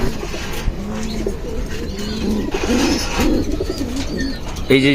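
Top silver pigeons coo in soft, repeated throaty phrases close by, with a few brief chirps and faint background noise.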